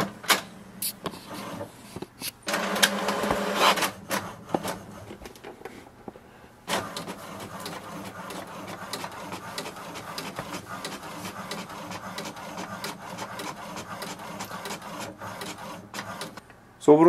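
An HP DeskJet Ink Advantage 2775 inkjet printer whirs and clicks as the print head shuttles back and forth, with mechanical feeding noises, fairly quiet and close.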